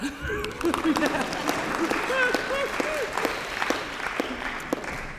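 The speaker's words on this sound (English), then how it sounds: "Clap." Applause rises at an alumni awards luncheon, crisp claps scattered through a murmuring room while a voice speaks over them.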